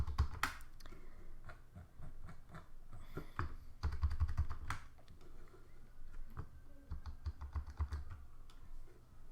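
Someone types on a computer keyboard in quiet, uneven bursts of key clicks with short pauses between runs, close but soft.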